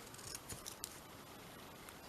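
Scissors snip around the edge of a paper Christmas tag, giving a few faint, close, crisp cuts early on and then a quiet background.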